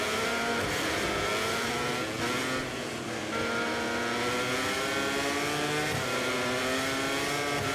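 A Honda MotoGP racing motorcycle engine in a video game screams continuously at high revs, its pitch rising and falling through gear changes, loud and close throughout with no speech.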